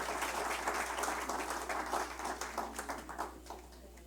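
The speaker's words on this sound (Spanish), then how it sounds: "Denle un aplauso al magistrado" Scattered audience applause for a magistrate at the close of a legal lecture, steady and moderate with individual claps standing out near the end.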